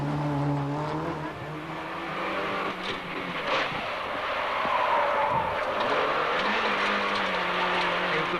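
Heard from an onboard camera, a Peugeot 309 GTI rally car revs hard through the opening stages of the 1990 Cartel Rally, its engine note rising and falling over steady road and gravel noise.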